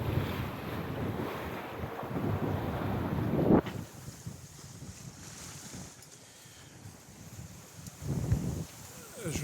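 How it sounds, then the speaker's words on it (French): Wind roars over a sailboat running downwind at sea with the mainsail up, strong microphone buffeting and rushing water giving way to a quieter hiss, then another gust near the end. "le vent augmente entre 5 et 10 nœuds"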